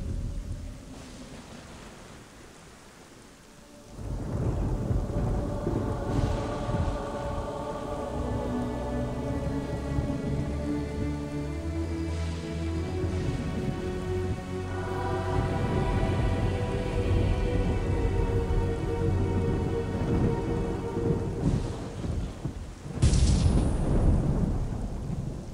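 Rolling thunder over steady heavy rainfall in the Black and White god game, quiet at first and then a loud, continuous storm roar with repeated deep rumbles and a sharp crack near the end.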